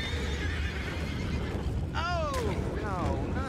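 A horse whinnies twice in Red Dead Redemption 2, a loud rising-and-falling neigh followed by a shorter second one, over steady ambient game noise with hoof movement.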